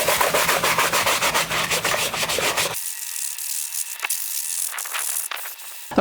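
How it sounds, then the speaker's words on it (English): A brush scrubs soapy water over an Audi SQ5 interior surface in quick, rapid back-and-forth strokes, loud and close, shifting to lighter, thinner rubbing partway through. "put some in the brush, and scrub"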